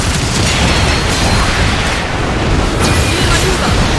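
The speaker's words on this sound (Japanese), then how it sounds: "敵機を撃墜した。" An enemy mobile suit is shot down in a Gundam video game battle, with loud, dense explosive booms and crackling blasts that fill the whole moment without letting up.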